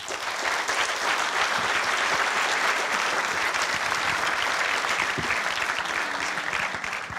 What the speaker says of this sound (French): Merci d'applaudir Philippe Charlier